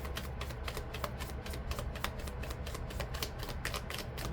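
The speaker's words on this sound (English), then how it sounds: "I'm just doing another little shuffle" A deck of cards is shuffled in a fast run of crisp, rapid riffling clicks, close and continuous throughout.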